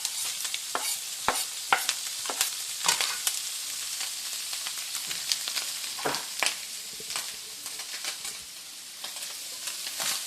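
Ham and onions for migas frying in a pan, a steady sizzle with scattered sharp crackles and spatula scrapes throughout, close and moderately loud with no talking.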